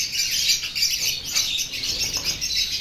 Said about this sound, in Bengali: পায়রা, লাভবার্ড, অন্যান্য সমস্ত পাখি যা যা আমাদের ফার্মে আছে, আজকে কিন্তু ওরা প্রত্যেকেই ভীষণ আতঙ্কিত।